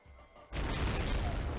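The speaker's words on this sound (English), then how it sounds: "we do see grenades being thrown off. They're being thrown back and forth." Grenade exploding in a Medal of Honor: Rising Sun match, a sudden loud blast after half a second of quiet that stays broad and roaring to the end, with no talk.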